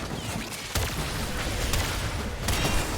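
Incarnon Latron Prime shots with area-of-effect explosions in the Warframe game make dense, loud bursts, with booming blasts landing in quick succession and a sustained rumble between them.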